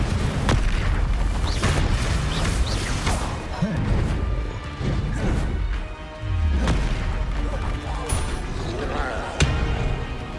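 Spell explosions in Hogwarts Legacy, Bombarda and Incendio blasts, boom and crash over and over in a loud, dense barrage of heavy impacts.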